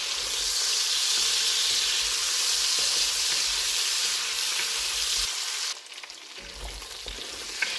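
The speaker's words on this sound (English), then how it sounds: "we've got that sausage nice and browned up" Sausage sizzles and browns in a hot Dutch oven for a one-pot jambalaya, a steady bright frying hiss that runs throughout and briefly thins near the end.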